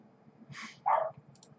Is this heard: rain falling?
no